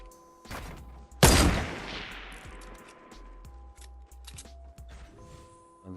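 A single loud, sharp gunshot from Fortnite Battle Royale rings out and decays, followed by faint clicks and small mechanical sounds amid quiet background tones.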